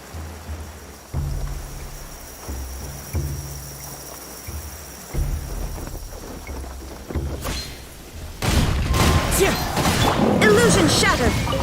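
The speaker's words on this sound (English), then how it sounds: "Taking a stroll in the middle of a downpour certainly rouses the spirit." Heavy downpour with rumbling thunder in the Genshin Impact video game, starting as a low rumbling bed under background music and swelling into a loud, dense roar of rain for the last few seconds.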